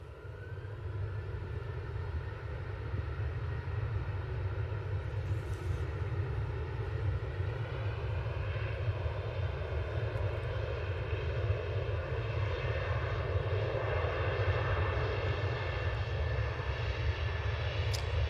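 A Ryanair Boeing 737-800 jet taking off, its engines giving a steady, loud, sustained roar with a low rumble throughout, no voices.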